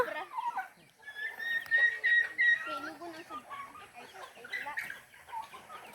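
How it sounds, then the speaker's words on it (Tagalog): Chickens cluck and chatter nearby in a busy, uneven stream, with higher calls rising over the low, steady background murmur at a birthday celebration. "Chicken."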